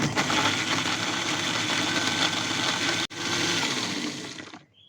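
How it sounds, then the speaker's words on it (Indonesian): Kitchen blender whirring through dried shrimp and chili in oil for chili oil, a loud steady grinding roar that briefly cuts out, resumes, then spins down to silence at the end. "Setelah itu kita blender."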